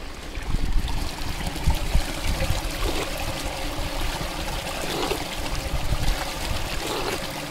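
A mountain stream in the autumn Carpathians runs in a steady, continuous trickle and gurgle of flowing water, close by and moderately loud, with no voices over it.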